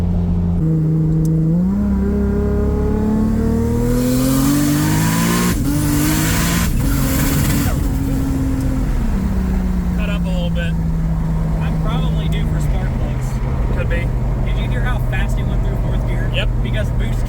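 A 2JZ-engined S14 with an 8HP70 gearbox accelerates hard, its loud engine note climbing through several quick gear changes before settling into a steady cruise, with voices talking over it.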